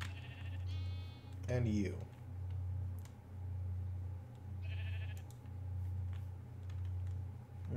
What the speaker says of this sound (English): Those black sheep seem very fitting with all the snow.